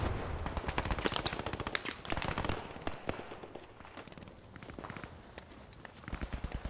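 Bursts of machine-gun and rifle fire in a Post Scriptum battle, sharp rapid shots mixed with running footsteps, loud at first, easing off mid-way, then resuming more distantly.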